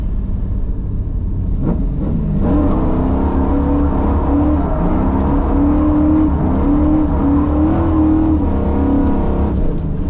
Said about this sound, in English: I'm going to downshift to second now. Alright, here's the first corner.